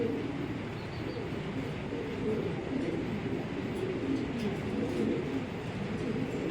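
A male racing pigeon from 2023 coos softly and continuously in a loft, a low steady murmur of overlapping coos with faint background noise and no voices.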